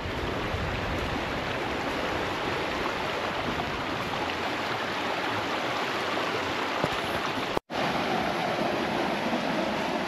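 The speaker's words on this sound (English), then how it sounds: "I love the sound of running water." A mountain stream runs with steady broadband rushing water near a trail while ATV camping among waterfalls, continuous and fairly loud throughout with no voices, apart from a brief dropout near the end.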